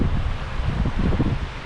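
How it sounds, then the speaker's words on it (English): Wind gusts buffet the microphone beside the flooded Skykomish River near the town of Sultan, a steady, close roar of rushing air with no break across the short stretch. "Wind's kicking up."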